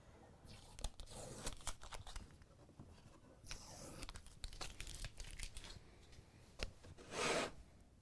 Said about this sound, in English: All right, I'll take this tape off.